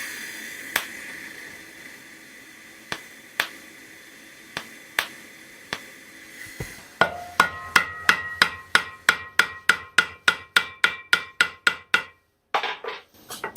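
A hammer strikes the TIG-heated top of a metal tenon to rivet parts together. Sharp metallic blows come first, spaced and sparse. Then a fast, steady run of about twenty ringing strikes follows, loud and close, with no voices.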